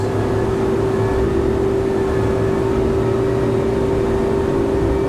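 Twin engines of a 2019 Greenline NEO motorboat drone at fast cruise around 4,000 revs, a loud constant hum with a strong steady tone and rushing water, unbroken and without talk.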